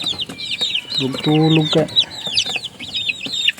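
Mother hen and her chicks clucking close by, with a steady stream of high chick peeps and a short burst of low hen clucks, while a person speaks briefly.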